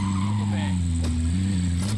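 A car in the video game Warzone driving with a steady droning engine hum, tires squealing in short skids over it, close and loud throughout.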